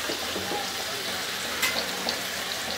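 Chicken tikka seekh kebabs fry in a pan with a dense, even sizzle that stays close and steady throughout, and a couple of faint clicks come near the middle.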